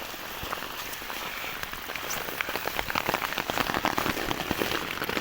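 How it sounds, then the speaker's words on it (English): Rain falls hard at a night campsite during a thunderstorm, dense close patter of drops drumming on a surface, steady and loud throughout with no talking. "comes the rain"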